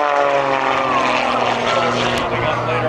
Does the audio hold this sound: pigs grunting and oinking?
no